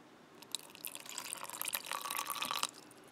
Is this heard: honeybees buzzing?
no